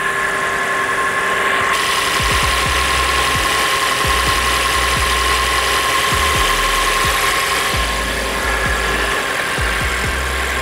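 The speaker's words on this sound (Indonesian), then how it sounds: "Ini suara mesin mobil hybrid ya." Engine of a hybrid car idling at fairly high revs, a loud, steady close hum with a constant tone and faint rhythmic knocking pulses throughout, with no talk.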